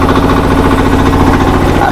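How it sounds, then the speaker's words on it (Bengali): A fishing boat's motor runs at a river confluence with a loud, close, steady chugging rumble and no break for the whole moment. "এখন নৌকা স্টার্ট দিচ্ছে"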